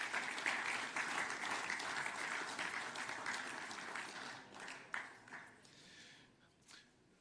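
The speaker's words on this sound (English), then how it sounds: "They deserve a round of applause for sure and certain." Audience at a 2019 NEAFL awards ceremony applauds, a steady roll of clapping that slowly thins and fades into a few last claps, quiet and somewhat distant.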